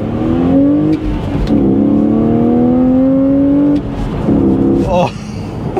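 A BMW Z4 3.0i engine revs hard up to the red line through the gears, a loud rising drone with short dips at each shift, while someone talks over it.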